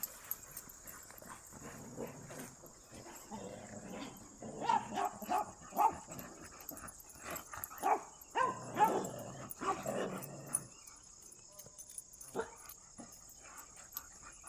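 A happy dog barks and yips in a series of sharp, close bursts, with whimpers between them, clustered mid-stretch before trailing off.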